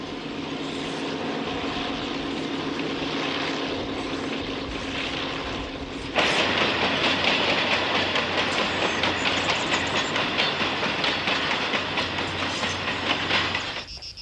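A narrow-gauge freight train on the Santander-Mediterráneo line, hauling sand for the Llodio glassworks, passes close by, a steady rumble that suddenly grows louder and brighter midway, then rolls on with rhythmic clickety-clack of wheels over rail joints, loud and unaccompanied by speech.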